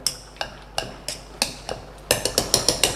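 Boiled potatoes being mashed directly in a wok, with sharp repeated knocks of the masher against the pan, spaced out at first and then coming faster and louder in a quick run near the end.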